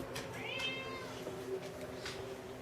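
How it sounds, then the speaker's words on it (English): A pet cat named Mr. Binks meowing indoors, one drawn-out rising and falling meow followed by a shorter faint call, quiet and close, with soft household background sound and no talk. "There's the kitty right there."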